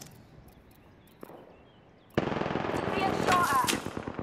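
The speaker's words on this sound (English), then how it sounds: "Being shot at." Gunfire in the shooter game Apex Legends: after a quiet stretch with one faint crack, a loud burst of rapid shots erupts and keeps rattling to the end, mixed with game effects.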